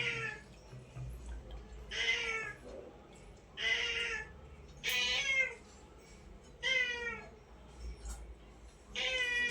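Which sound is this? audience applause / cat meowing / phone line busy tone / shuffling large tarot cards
cat meowing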